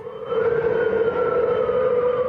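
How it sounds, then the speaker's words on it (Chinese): A malfunctioning alarm siren at a Taipei junior high school blares in the middle of the night. It is a loud, steady wail that holds one pitch throughout, carrying from a distance with no voices. "发现这个声音是固定国中的警报器出问题"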